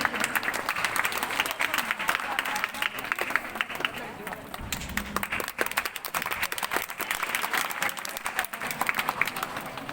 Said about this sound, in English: please have a big round of applause for Bhavani and Pratik.